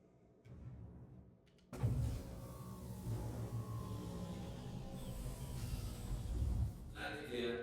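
Landing gear retracting on a spaceship in the game Star Citizen: a steady, loud mechanical whir and rumble that starts abruptly and holds for several seconds, ending with a brighter hiss.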